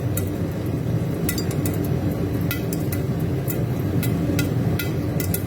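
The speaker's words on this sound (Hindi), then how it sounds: "फटने शुरू हो गए। पॉपकॉर्न बन रहे हैं।" Popcorn kernels popping in a pot on a stove over full heat, a steady scatter of sharp little pops and clinks over a dense, continuous hiss and rumble.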